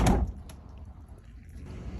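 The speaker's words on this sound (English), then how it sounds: "when you close your door, always close the left first and then the right door." A KitchenAid freezer door shuts with one solid thump at the start, followed by a faint rattle and quiet room tone. There is no talking.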